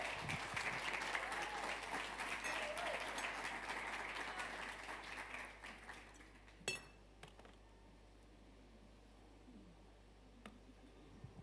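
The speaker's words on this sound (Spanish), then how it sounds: "Denle un aplauso al Rey que vive." A church congregation applauds during a sermon, a dense wash of clapping from many hands that holds steady for several seconds and then fades away into a quiet room.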